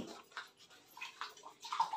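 Water runs and splashes into a glass at a household tap, a soft, uneven trickle with small gurgles over about two seconds, fairly quiet and without talk.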